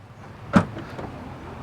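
Power tailgate on a 2022 Chevy Traverse High Country SUV releasing, a single sharp latch clunk followed by a faint motor whir as the hatch starts to rise, short and close.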